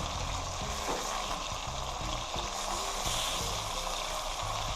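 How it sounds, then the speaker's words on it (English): Steady, dense sizzling of oxtail searing in a hot pan, continuous and fairly close, with faint low clatter underneath. "Just want to sear it off."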